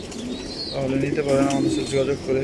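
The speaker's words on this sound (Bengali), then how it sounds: "এগুলো সব রেস করা কবুতর" Racing pigeons coo steadily at a large loft, their low repeated calls close and continuous while someone talks over them.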